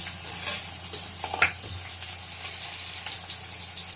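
Garlic and chopped onion sizzle in hot oil in a pan, a steady close hiss with brief stirring scrapes and a small clatter partway through.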